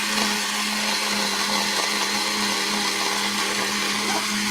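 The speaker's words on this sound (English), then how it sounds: "I have 1 coffee grinder that" A loud coffee grinder whirs steadily throughout, a harsh high-pitched motor drone with a constant buzzing hum beneath it, close by.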